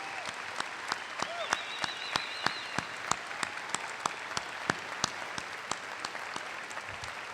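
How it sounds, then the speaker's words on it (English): Applause at a 2017 high school graduation ceremony honoring firefighters, police and volunteers: crisp, evenly spaced claps in a steady rhythm over a low background murmur, moderately loud throughout. "Give them a welcome round of applause."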